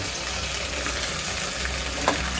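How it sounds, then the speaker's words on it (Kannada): Coriander, mint, fenugreek leaves and vegetables frying in a little oil, a soft, steady sizzle close by with a faint clink near the end and no talking. "ಹಾಕ್ಕೊಂಡು ಒಂದು ಸ್ವಲ್ಪ ಎಣ್ಣೆಯಲ್ಲಿ ಉಟ್ಕೊತೀನಿ"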